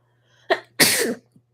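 A single close, forceful human sneeze, a brief breathy build-up then a loud explosive release, standing alone in a quiet room with a low steady hum.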